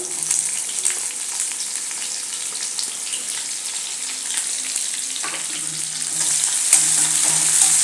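Finely chopped onion and garlic sizzle steadily in oil in a pan for okra fry, a dense close frying hiss with occasional stirring clinks, growing slightly louder toward the end.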